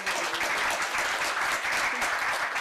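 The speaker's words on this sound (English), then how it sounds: "That deserves a round of applause." An audience at the Somali Week Festival opening event claps in a sustained, dense, even burst, close and full, with a faint voice underneath.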